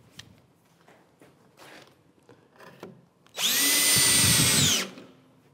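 Workbench building: after quiet handling knocks, an electric drill that seems to be losing power whirs loudly in one burst of about a second and a half, likely driving long screws into wood, then stops.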